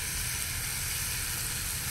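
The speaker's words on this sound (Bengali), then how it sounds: "তো বন্ধুরা এবার দিয়ে দেবো লঙ্কা গুঁড়ো" Mutton skin curry with onion, ginger and garlic sizzling hard in a pan as chilli powder goes in, a loud, even, continuous frying hiss with no pauses.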